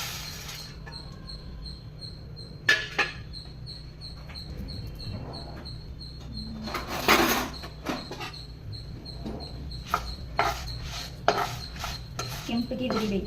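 Spice ingredients for an Udupi-style menthya gojju, including chana dal and orange peel, roasting in a pan to a reddish brown, with a spoon clinking and scraping against the metal in sporadic knocks over a steady low hiss of frying.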